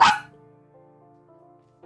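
One sharp, loud dog bark, close and sudden, followed by a faint lingering tonal hum.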